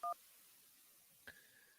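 A short burst of telephone DTMF dialing tones opens, followed by a faint connecting tone on a call-in line to a live sports talk show; no voices.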